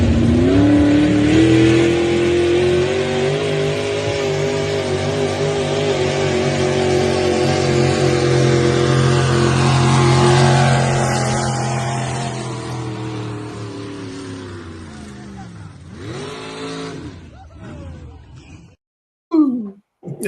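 A pulling truck or tractor roars at full throttle with the throttle stuck wide open, a loud, sustained engine howl that holds for about fifteen seconds before fading and cutting out, followed by brief bursts of sound.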